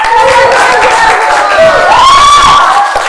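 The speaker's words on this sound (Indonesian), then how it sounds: "Tepuk tangan untuk" A loud crowd of students cheers and shouts amid scattered clapping, with whooping voices rising over the noise, at a celebration of a winning volleyball team.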